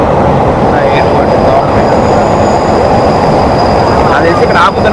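A train pulls into Bang Sue station in Bangkok, Southeast Asia's largest railway station, with heavy rain falling; a loud, steady broadband rumble of rolling carriages fills the whole stretch, with faint wheel squeal and some voices.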